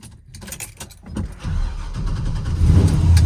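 Keys jangle, then a car engine cranks and catches, building into a steady low rumble that grows louder toward the end. The car is being readied for a trip to a car show.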